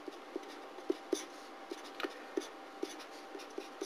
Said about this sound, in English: so let's write that line underneath there